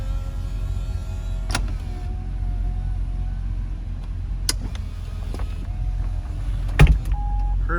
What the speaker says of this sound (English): because it's a convertible, I'm just going to put the roof up